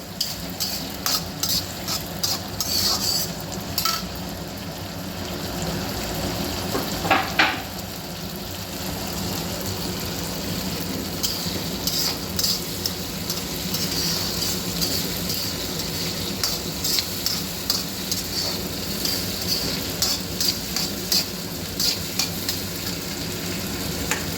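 Peanuts frying in an oil-filled pan for a sorghum-flake tempering (jonna atukula popu), with a steady close sizzle and repeated sharp clicks and scrapes of stirring throughout.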